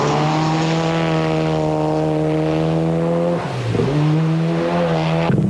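A Group N rally car races flat out along a stage of the 2005 Rally Hawkes Bay in New Zealand, its engine droning loud and close at steady revs, dipping briefly on a gearchange near the end before pulling hard again.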